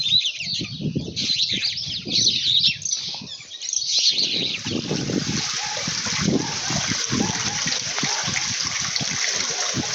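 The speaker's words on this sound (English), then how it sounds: "followed by the nice relaxing voices of birds chirping in the background" Birds chirp in a high, busy chorus on a morning African savannah at Tsavo East, over low rustling and splashing sounds nearby.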